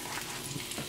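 Food sautéing in a pot on the stove for a ribeye steak dish gives a steady, close sizzle and crackle throughout, loud and continuous with no one talking.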